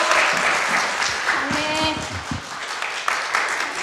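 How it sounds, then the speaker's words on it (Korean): A church congregation at a Sunday morning service on an air force base claps steadily, dense applause filling the room with voices and cheers rising over it. "큰 박수로 응원해 주시길 바랍니다"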